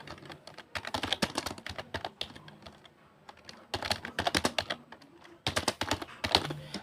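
Quick bursts of keystrokes on a computer keyboard, clicking in uneven clusters with short pauses between runs, close and fairly clear with no talking.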